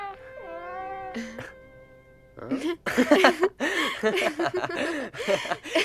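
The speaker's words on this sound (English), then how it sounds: "Your cat was scared, wasn't she?" A pregnant cat meows at the start with a few wavering, drawn-out cries, followed by people talking over the rest.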